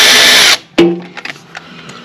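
A cordless ratchet removes drive wheel bolts on a Raymond walkie stacker, giving a loud half-second buzzing whir that stops abruptly, followed by a sharp metallic clank and a few faint knocks.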